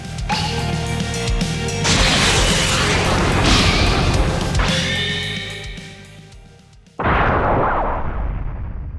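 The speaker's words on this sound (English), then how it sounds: "he uses a 50 times Kamehameha with his feet to propel himself and blow through the wind barrier" Goku's 50-times Kamehameha fired from his feet to blast through a wind barrier, a loud roaring energy rush with crashing impacts that swells, fades, then cuts back in abruptly with a fresh burst.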